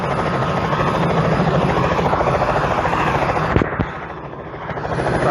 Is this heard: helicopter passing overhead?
yes